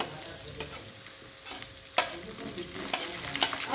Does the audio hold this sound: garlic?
yes